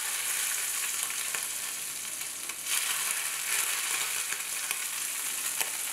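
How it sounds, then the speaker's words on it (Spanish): Boiling oil poured over chili flakes, Sichuan pepper and sliced beef sizzles with a loud, continuous bright hiss and crackle throughout, no voices. "Es el turno del crujiente de chiles y pimienta sichuanesa, y después el aceite hirviendo justo encima."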